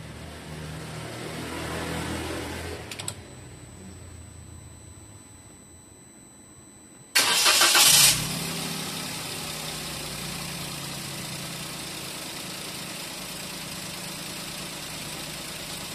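A Toyota Wigo engine on a fresh Amaron battery cranks and catches with a sudden loud burst, then settles into a steady, moderate idle after a quiet stretch beforehand.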